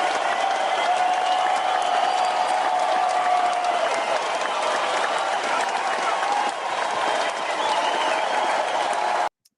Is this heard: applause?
yes